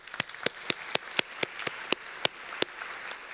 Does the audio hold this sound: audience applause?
yes